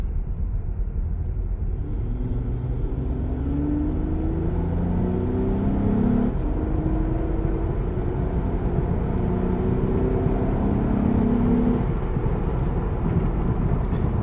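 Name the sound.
2013 Acura TSX V6 accelerating, VTEC engine revving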